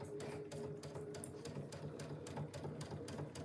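A sewing machine runs a steady straight stitch while a jelly roll fabric basket is being sewn, its rapid needle chatter continuous and close for the whole stretch with no talk.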